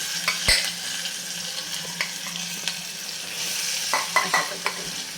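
Cooked dal poured into a hot turmeric tempering over low heat for vatli dal, giving a steady close sizzle with scattered clinks and stirring scrapes of a spoon against the pan, no talk.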